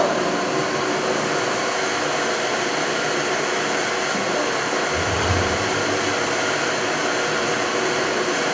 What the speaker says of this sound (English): So I've just gone ahead and plugged it in to my shop vac.